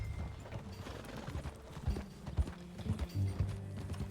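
Horse hooves clip-clopping at a steady walking pace in Red Dead Redemption 2, close and clear over a faint ambient background, no speech.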